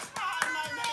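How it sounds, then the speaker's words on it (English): Applause and hand clapping for Chef Holly, a brief burst of several sharp claps over about a second, fairly close and steady. "Give it up with a big round of applause for Chef Holly."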